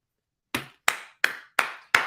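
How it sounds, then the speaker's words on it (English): Five sharp, evenly spaced claps ring out one after another with short decaying tails, close and distinct, on a sports talk show. "Round of applause."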